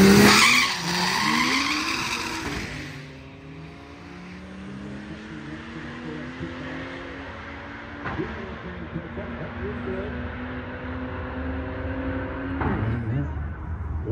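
A car with bagged suspension spins its wheels at a drag race start, a loud tire squeal and engine rush up close that fades into a steady distant drone with occasional bumps.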